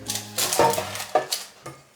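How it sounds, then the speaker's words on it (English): Fruitcake batter is divided into two loaf pans with a utensil: several scraping clinks of metal against pans and bowl come in irregular bursts, close and moderately loud. "it's time to divide the batter up into the 2 loaf pans"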